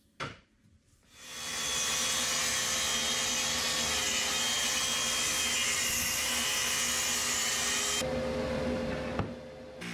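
A jigsaw cuts the front legs of a modern minimalist wooden bed frame from glued-up boards, a loud steady buzzing rasp that runs continuously for several seconds before stopping, with a brief clack near the end.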